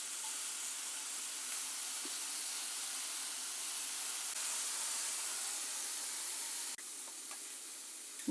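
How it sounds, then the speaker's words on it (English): Shrimp fry in a pot of hot oil on a stove, a steady faint sizzling hiss running throughout with a small dip near the end. "Now my shrimp they fry."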